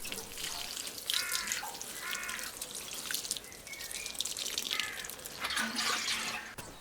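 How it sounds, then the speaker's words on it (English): Water trickles and splashes as lupin plants are watered outdoors, a soft steady pour with irregular drips, faint and close, while birds call now and then in the background. "give the plants a good watering"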